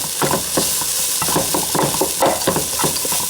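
Spaghetti meat sauce is stirred in a pan, giving a run of close, rhythmic scraping and squelching strokes over a steady sizzle, with no voices.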